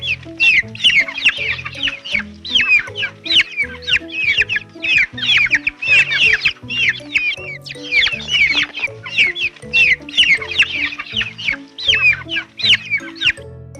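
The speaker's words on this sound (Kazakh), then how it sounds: "Балапан пи пи пи пи пи пи пи пи пи пи пи пи пи пи дейді" Chicks cheep in quick, high-pitched bursts that repeat busily throughout, loud and close over soft sustained musical tones.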